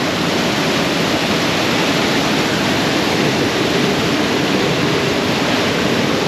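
A waterfall on the Koosah and Sahalie Falls trail roars as a loud, dense, unbroken rush of water that fills everything, steady from start to finish.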